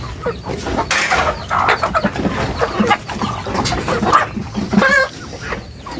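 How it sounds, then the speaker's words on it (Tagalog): Barred Plymouth Rock heritage chickens cluck and squawk close by in a busy, overlapping run of calls, one louder rising squawk near the end, with occasional soft background voices. "ang barred plymouth chicken. Yan, plymouth rock chicken."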